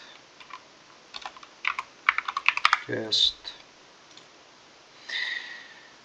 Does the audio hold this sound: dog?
no